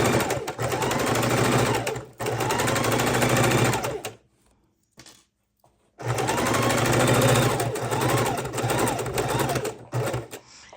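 A sewing machine stitches a fabric microwave potato bag, running in loud, steady whirring bursts. Two long runs are split by a pause of near silence with brief small handling sounds.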